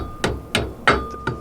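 Four sharp hammer strikes on a metal trailer wheel hub pin, spaced evenly about a third of a second apart, close and loud with no talking.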